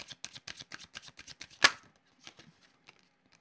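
Tarot cards are shuffled with quick papery riffles and flicks, followed by a sharp snap as a single card is drawn, then a few soft handling sounds; close and fairly quiet.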